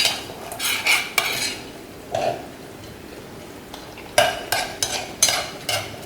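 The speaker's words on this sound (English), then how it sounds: "we are going to coat the vegetables with all this sauce." Vegetables being stirred into a vinegary pickling sauce in a pot for Malaysian Nyonya acar, giving a series of short scraping, clinking strokes in bursts with quiet gaps between them.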